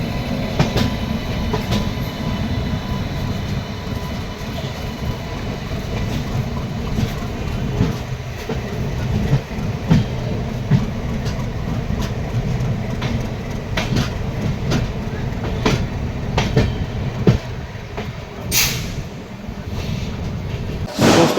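A passenger express train arrives at Chennai Central station, rolling steadily with a heavy low rumble and clickety-clack of wheels over rail joints, sharp clanks scattered throughout, loud and continuous.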